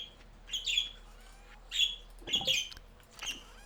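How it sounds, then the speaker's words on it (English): Birds calling outdoors: four short, bright chirping phrases spaced a second or so apart, fairly faint and distant over a quiet background hum. "There are birds outside."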